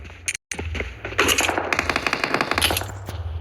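Rapid bursts of automatic gunfire crackle close and loud amid combat near Pokrovsk, a brief gap then dense overlapping shots rattling on steadily.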